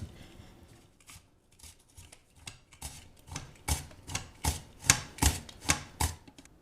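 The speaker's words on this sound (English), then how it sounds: "I'm going to be using a mandolin" Potatoes slide over a mandoline in a run of sharp, regular slicing strokes that start soft and sparse, then grow louder and faster, each cut a crisp close rasp.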